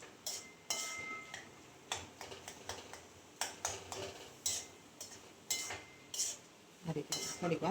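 Chikoo halwa stirred with desi ghee in a pan, a metal spoon scraping and clinking against the pan in irregular, close strokes with quiet pauses between them.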